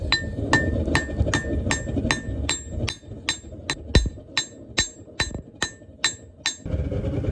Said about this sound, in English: Now I'm going to go ahead and start forging in the bevels